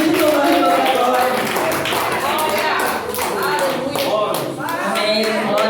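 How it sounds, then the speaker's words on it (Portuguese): A congregation at an evangelical church service claps in praise, with loud, close hand claps running throughout beneath a person speaking or singing. "Aplauda Ele nessa noite."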